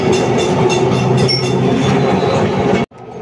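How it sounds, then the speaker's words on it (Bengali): A Kolkata heritage tram rolls along its rails through city streets, a loud steady rumble with wheel clatter and a high squeal, cutting off abruptly near the end. "মাঝখান দিয়ে ছুটে চলেছে নিজস্ব গতিতে আমাদের ঐতিহ্যবাহী ট্রাম"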